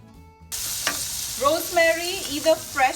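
Mushrooms sizzle steadily in a hot pan, with a person speaking briefly over the frying.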